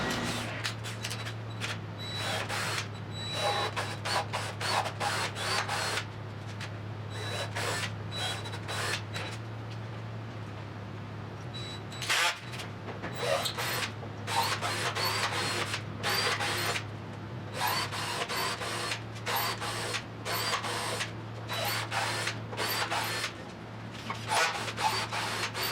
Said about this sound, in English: we're gonna start by chasing all the threads for the mounting bolts, for the fasteners